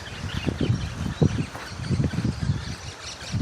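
Ducks beside a flooded Gawler River give a string of low, rhythmic quacking calls, fairly close, over a steady background of moving water and outdoor noise, with no talking.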